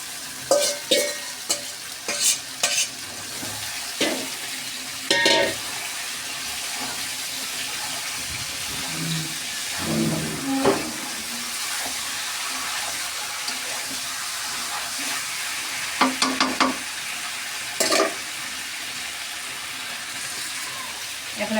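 Meat sizzles in a pan for biryani as a spoon stirs it repeatedly, with scraping strokes and clinks recurring through a steady frying hiss.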